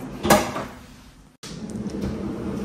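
A kitchen cupboard drawer fitted with non-slip liner is opened and closed, giving a soft sliding rush and a muted knock near the start, then a second slide after a short pause, close and moderately loud, with no talk.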